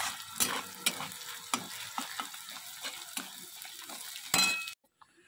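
Onions frying in a pan with salt, a soft close sizzle under a quick series of spatula scrapes and clinks against the pan, ending in a louder burst before cutting off.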